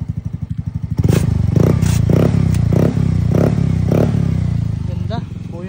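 A Mio Gravis scooter fitted with a TRC exhaust pipe revs up close and loud, its steady idling putter broken by a series of rhythmic throttle blips.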